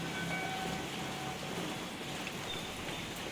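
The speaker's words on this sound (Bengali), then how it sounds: "টিপটাপ করে বৃষ্টি শুরু হয়ে গেছে" Light rain falls steadily outdoors in autumn, a soft continuous hiss with no distinct drops standing out and no voices.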